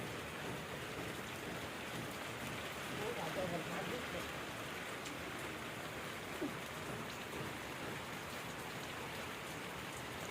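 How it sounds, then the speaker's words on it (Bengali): Steady rain hisses and patters continuously on surfaces, an even wash of sound with no voices standing out. "এখনও বৃষ্টি পড়েই আছে, কমার নাম নেই"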